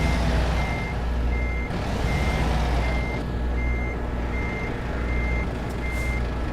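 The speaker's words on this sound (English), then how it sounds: "the worst person at reversing a trailer, a truck into a trailer" Trucks reversing a trailer in American Truck Simulator: a steady series of evenly spaced backup beeps rings out over a continuous low diesel engine rumble, with no talking.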